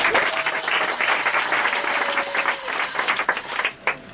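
A church congregation at a Pentecost service claps and cheers together, steady loud applause that thins into scattered claps near the end.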